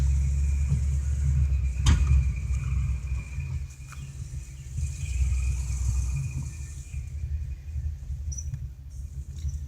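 A Cadillac on a test drive gives a low, steady engine rumble while moving, with a sharp click early on and faint squeaks over the hum, fairly close and alone.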